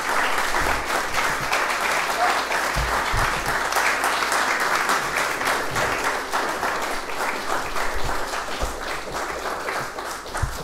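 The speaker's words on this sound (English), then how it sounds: "Almost got carried away by those claps." A live audience breaks into sustained applause after a talk about dug-up guns and weapons, a dense, loud wash of clapping that carries on steadily for about ten seconds and tapers slightly at the end.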